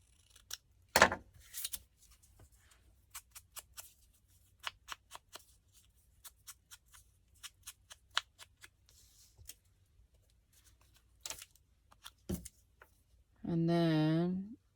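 Scissors trimming paper book pages: soft, scattered snips and rustles close by in a quiet room, spaced irregularly, followed by a brief buzzing sound at the end.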